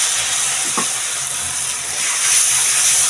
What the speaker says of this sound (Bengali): একটু পানি দিয়ে ভালো করে কষাই দিব, মশলা গন্ধ আসবে না।